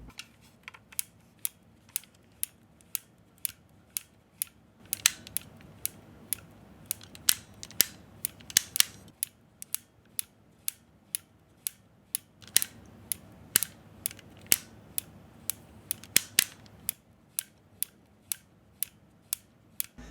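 Ratchet joints on a Transformers Armada Tidal Wave toy click in a rhythmic, song-like sequence of sharp, close plastic ticks, steady for about twenty seconds with small bursts of faster clicking.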